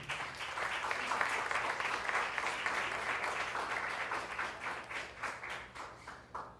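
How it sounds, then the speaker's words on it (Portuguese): An audience at an academic week event claps loudly and continuously as a guest is welcomed to the panel, with the clapping thinning into more distinct rhythmic claps near the end. "com os aplausos de vocês"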